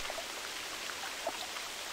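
Steady rain falls in the hunting game The Hunter Classic, a soft, even wash of drizzle with faint scattered drops, quiet and continuous throughout.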